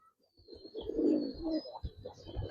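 Giribaz pigeons coo in soft, low rounded phrases, fairly close, with a few repeated calls and no speech.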